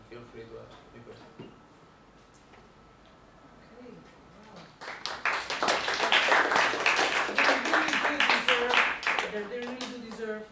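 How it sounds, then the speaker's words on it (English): A classroom audience applauds a group's presentation on communicating in English for future engineers, with talk at first and then a burst of many hands clapping that holds steady and fairly loud for about six seconds. "They really do deserve that we clap."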